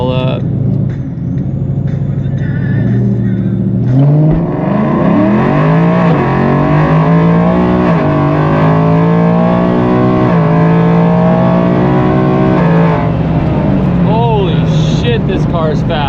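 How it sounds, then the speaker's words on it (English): A boosted Ford Mustang Foxbody with a Gen3 10R80 transmission roars loud and close through a burnout, its engine note climbing steadily in rising harmonic sweeps, then dropping and surging again near the end. "Let's do a little quick burnout. Let's see if we can get traction here."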